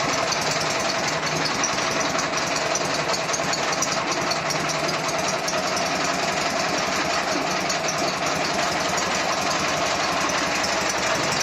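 A Prykarpatets mini tractor engine idles as it warms up, a loud, steady, rapid mechanical chatter with a fast knocking pulse that runs close and unbroken throughout, with no talking.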